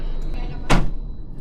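A Peugeot 208 car door shuts with a single short, solid thump midway, set against a low steady background hum.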